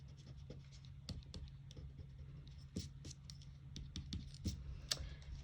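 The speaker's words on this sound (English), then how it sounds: "And then I'm going to go ahead and erase my excess." A rubber eraser rubbing out pencil lines on paper, heard as a series of short, close, dry scratching strokes in an uneven rhythm, quiet and alone without talk.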